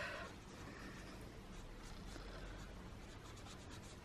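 A drawing tool colours in a small mushroom drawing on a journal page, with faint, soft continuous scratching strokes close by and no voices.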